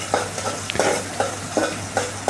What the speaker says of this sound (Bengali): কিছুক্ষণের জন্য লাল লাল করে ভেজে নেব।